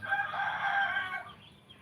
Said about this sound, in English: this type of bird, wild bird, loves to eat